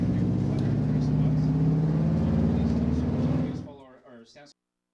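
A Subaru STI engine hums at a steady, moderate level beneath a talking voice, then cuts off near the end.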